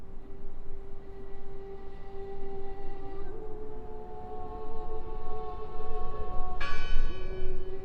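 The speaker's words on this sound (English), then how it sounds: "Listen! The bell!" A bell in the game Draugen rings with a sustained, humming metallic tone over a rough, noisy ambience, fading slightly before a fresh, brighter strike near the end.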